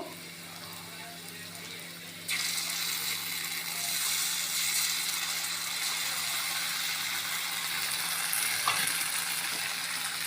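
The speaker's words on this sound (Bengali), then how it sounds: "ক্যাপসিকাম কুচি এগুলো সবই দিয়ে দেব, দিয়ে এটাকে আমি একটু হালকা ফ্রাই করে নেব।" Chopped onion and capsicum frying lightly in a pan for veg Manchurian, a steady close sizzle that jumps louder after a couple of seconds and holds through, with no talk over it.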